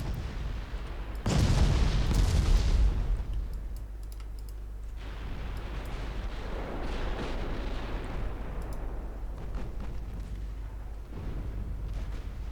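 An old pre-dreadnought warship's 11-inch main gun fires in a naval battle game, a single heavy boom that rolls into a long, low rumble, followed by quieter distant crackling and clicks.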